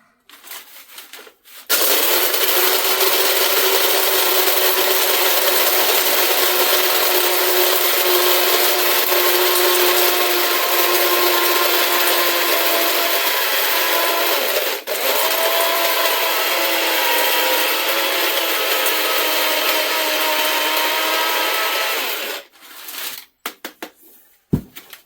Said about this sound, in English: let's grind this thing up.